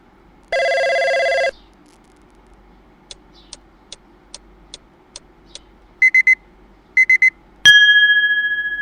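An iPhone battery notification app plays a series of alert tones one after another: a sustained buzzing ring, a run of short single clicks, clusters of quick beeps, then a bright chime that rings out and fades.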